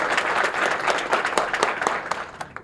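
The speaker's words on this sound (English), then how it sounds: "please give yourselves another round of applause" A crowd applauds at a first-time homebuyers celebration, loud sustained clapping with sharp individual claps standing out, tapering off toward the end.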